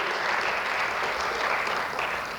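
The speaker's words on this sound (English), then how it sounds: "So give big round of applause, Sunil ji." Conference audience at an annual inaugural session giving a big round of applause, a continuous wash of clapping at even volume that tails off slightly at the end.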